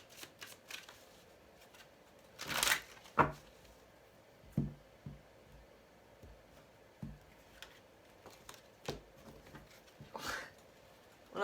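Tarot cards are shuffled in scattered bursts, quick papery riffles and soft slaps spaced irregularly across a quiet room, with a couple of louder sweeps.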